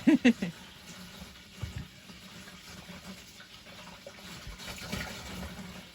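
Water running from a tap to fill a container at a hidden beach in Albania, a soft steady gush beneath brief knocks at the start, fairly faint and close, without talking.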